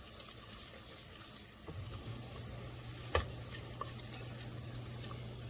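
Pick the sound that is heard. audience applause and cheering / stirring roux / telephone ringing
stirring roux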